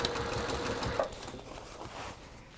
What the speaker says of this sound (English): sewing on that seam allowance